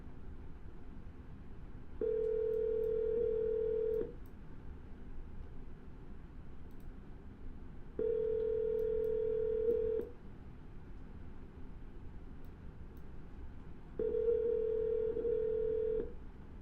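Steady single-pitch telephone tones sound in three evenly spaced two-second bursts over faint line hiss, the signal from a dialed number that is out of service.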